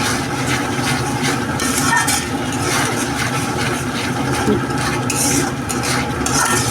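Ground turmeric, coriander and chili masala sautéed in a pan for chicken curry, giving a loud, continuous sizzle with steady stirring and scraping close by.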